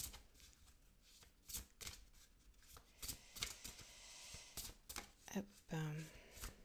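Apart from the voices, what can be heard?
drawing a card from an oracle card deck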